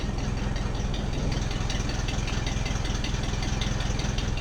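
The engine of a Ford 600 tractor, left abandoned for a decade, idles with a steady, loud rhythmic chug and a faint mechanical rattle, close by, with no talking over it.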